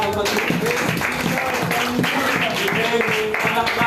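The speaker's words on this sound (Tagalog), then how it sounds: "Palakpak para sa Panginoon." A church congregation at a Sunday service in Daraga claps for the Lord, a dense, steady patter of applause lasting the whole moment, mixed with a voice speaking and a warm backing of sound.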